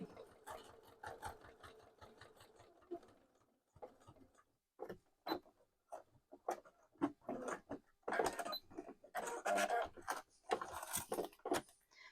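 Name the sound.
sewing machine stitching wallet beside chalk line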